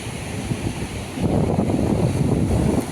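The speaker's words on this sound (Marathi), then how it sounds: "सुंदर लाटा या ठिकाणी आपल्याला पाहायला मिळत आहेत आणि समुद्राचा आवाज आपल्याला छान ऐकायला येतोय" Sea waves breaking on Shiroda beach near Vengurla, a steady broad roar of surf with wind buffeting the microphone, swelling louder after the first second.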